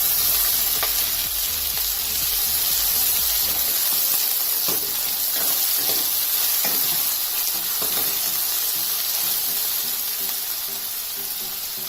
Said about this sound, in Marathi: त्यामध्ये आपण बारीक कट केलेला कांदा घालूया.